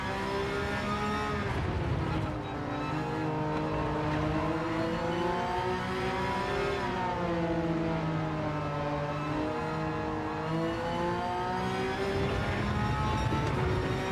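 A Porsche race car engine in Gran Turismo 7 drones steadily through a warm-up out lap, its pitch rising and falling with throttle and gear shifts, loud and unbroken for the whole stretch, no voices present.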